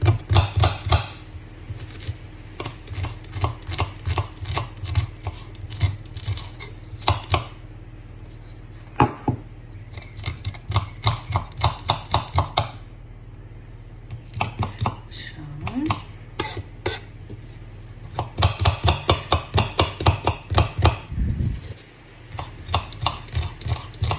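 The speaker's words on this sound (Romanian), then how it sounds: "mi-am pregătit o cepuță mică și mi-am luat una din grădină care am să le tai mărunt" A knife finely chopping a small garden onion on a cutting board, rapid steady rhythmic taps in close runs separated by short pauses, loud and near, with a steady background hum.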